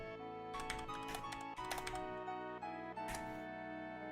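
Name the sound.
loud computer keyboard typing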